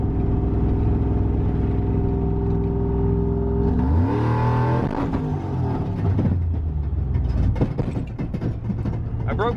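A supercharged shop truck accelerates hard in a 60 mph roll race, the engine drone climbing sharply in pitch, then a sudden break and rough clattering as the driveshaft fails, with a voice talking briefly over it.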